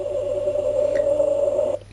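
A Doctor Who Flight Control TARDIS action figure toy plays its interior sound effect when the doors open, a steady electronic hum with a faint beep partway through, cutting off at the end; no speech.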